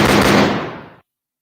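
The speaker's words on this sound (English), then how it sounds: "Let me put the gunshot." A single gunshot sound effect played in a talk recording: one loud, sharp blast with a broad rumbling body that decays over about a second, then cuts off to silence.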